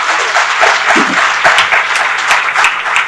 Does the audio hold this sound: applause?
yes